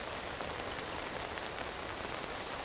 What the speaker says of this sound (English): These are the light rains.